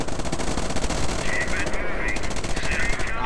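Company of Heroes battle gunfire from a unit: dense, unbroken rapid automatic fire, loud and close, with a voice faintly underneath.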